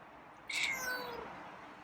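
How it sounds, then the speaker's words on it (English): A single feral cat meow, close and clear, rising then trailing off over faint background noise. "Why are you meowing?"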